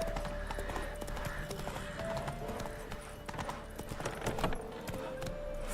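Geralt's horse Roach gallops in The Witcher 3 with rapid, rhythmic hoofbeats clattering continuously at moderate volume alongside a faint background tone.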